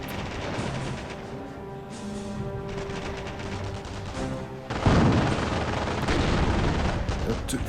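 Mortar and artillery blasts from a Company of Heroes mobile match thud repeatedly through battle noise, with a heavier, closer burst about two-thirds through and continued gunfire rumbling after.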